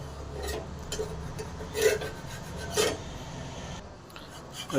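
A black urad dal dosa being lifted from a nonstick tava, with repeated rasping scrapes of a spatula against the pan in short close strokes and no voice.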